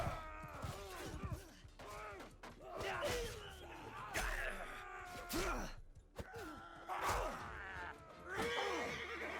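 Horse whinnying in the Mount and Blade 2 Bannerlord battle game, several loud strained neighs and groans in bursts over a busy battlefield backdrop, repeated every couple of seconds.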